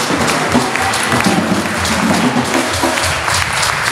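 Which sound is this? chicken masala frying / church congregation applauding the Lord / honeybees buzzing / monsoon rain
church congregation applauding the Lord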